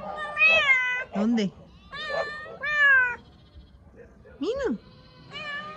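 A cat meows repeatedly, several drawn-out, rising-and-falling cries close by, with a person calling out briefly between them.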